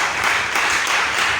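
A church congregation breaks into brief, steady applause, with many hands clapping together in a dense wash of sound that holds evenly for a moment.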